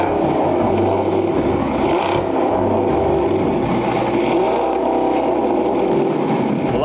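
A powerful sports car engine of well over 700 horsepower rumbles and revs steadily, loud and close, with deep throaty growling throughout and no talking.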